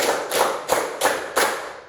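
Schoolchildren in a classroom clap together in a steady rhythm, five crisp ensemble claps roughly a third of a second apart, each with a short room tail, loud and near, no voices.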